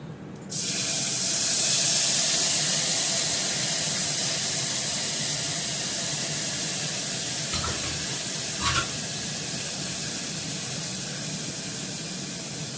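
Onion and garlic paste frying with dried chillies in a pan gives a loud, steady sizzle that hisses on throughout, with a couple of brief stirring scrapes near the end.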